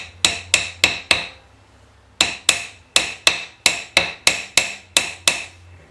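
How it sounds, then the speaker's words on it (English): A small hammer strikes a harmonic balancer on a 1953 one-ton panel truck in a run of sharp, ringing metallic blows: four quick hits, a pause, then about eleven more in a steady rhythm, close and loud. "See if the little baby hammer works here."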